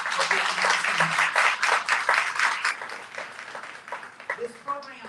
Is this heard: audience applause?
yes